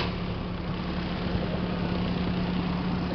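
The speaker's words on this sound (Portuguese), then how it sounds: "Aqui é o motor dela" The rear-mounted 1.0 diesel engine of a Bobcat machine idles steadily at close range, a continuous low hum and rumble with a strong low drone and no talk.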